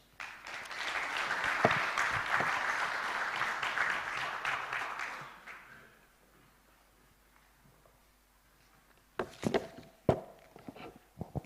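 An audience at the launch event of a Pan African programme to eradicate peste des petits ruminants applauds after a speech. Loud, dense clapping fades out after about six seconds, followed by a quiet pause and then a few scattered sharp knocks.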